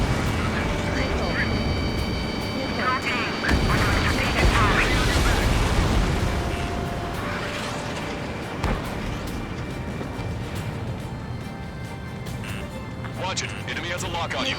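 Ace Combat 7 air combat erupts in dense, continuous rumbling explosions and missile blasts, with roaring jet noise and radio voices layered over the loud, unbroken battle din.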